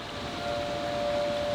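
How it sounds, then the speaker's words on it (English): Steady tornado warning siren holding a single sustained tone, heard outdoors at an RV stop over wind and background noise, continuous and moderately loud throughout. "It's like a tornado siren."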